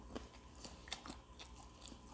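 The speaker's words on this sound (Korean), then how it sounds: "그냥 다 씹어먹는 거야" Fried Puradak chicken neck bones crunched between the teeth, giving soft, close, irregular bites and crackles with no talking.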